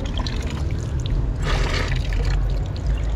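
Water runs steadily from a public stone fountain in Sarajevo in winter, a constant close splashing trickle with a brief louder gush midway and no talk.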